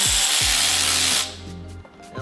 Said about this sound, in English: Now with access to the screws, right here, go ahead and take it out